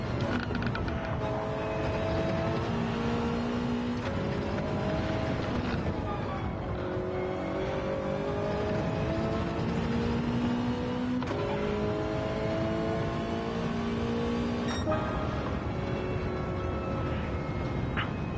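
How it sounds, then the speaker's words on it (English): A race car's engine in Gran Turismo 7 climbs repeatedly through the gears, revs rising in long sweeps and bouncing off the rev limiter, loud and continuous with no voices. "There, I hit the rev limiter again."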